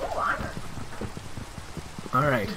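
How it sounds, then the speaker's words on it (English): In a fortress survival video game, rain patters steadily through the whole clip in a soft, even wash, while someone talks over it with a brief exclamation near the end. "unfortunately, it is raining right now"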